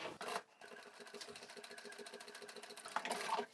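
A fast home sewing machine stitching fabric for a small scissor keeper pouch, giving a rapid even mechanical whirr with a brief pause near the start before running steadily.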